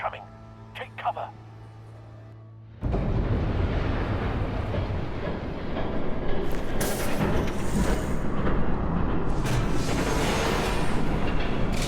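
In the video game Batman: The Telltale Series, after a few quiet sounds, a heavy, loud rumble abruptly rises and roars continuously, like a train thundering past close by, with rushing hiss above it.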